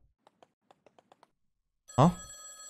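A telephone rings loudly in a horror adventure game, one strong burst after a few faint clicks, with a brief spoken reaction before it.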